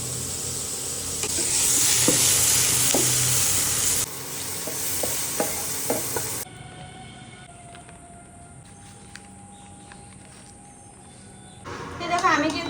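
Panch phoron and half-dried red chillies crackle and sizzle in hot oil for a few seconds, then the frying fades to a quieter background while a voice talks nearby.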